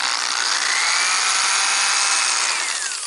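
A loud, steady high-pitched power drill whine, pitch holding then dropping near the end as it bites into a rubber stopper.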